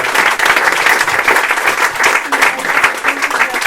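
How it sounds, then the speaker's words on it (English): An audience at a talk breaks into warm applause, dense clapping from a sizeable crowd that swells and ebbs in waves for nearly four seconds, fairly close and loud, with faint voices under it. "please a round of applause"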